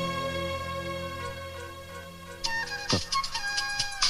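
A phone ringtone rings alone in a Tamil film scene, a steady electronic melody of repeating tones that grows brighter and busier partway through, with no talk over it.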